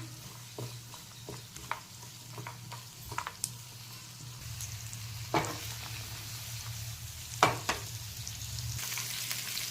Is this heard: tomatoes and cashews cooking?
yes